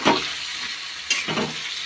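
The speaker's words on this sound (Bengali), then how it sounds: "এখন একটু ভালো করে কষিয়ে নেব মশলাটা।" Spice masala being sautéed and stirred in a pan gives a close, steady sizzle broken by two quick scraping strokes of the spoon, with no talking.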